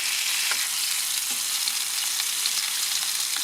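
Smash burger patties for a teriyaki burger sizzle hard on their first side, a constant bright frying hiss with a few small pops and no talking.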